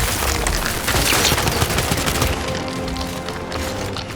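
Rapid gunfire in the video game Gears 5 rattles in dense bursts with heavy impacts, loud and continuous, then thins out toward the end.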